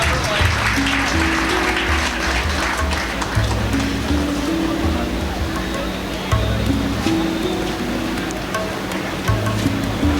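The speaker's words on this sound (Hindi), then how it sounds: "तालियां जहां जरूरी हों," Sustained applause from an audience at a Rotary Club talent award ceremony, dense steady clapping that fills the whole stretch at a fairly loud level, with a faint voice over a PA in the background.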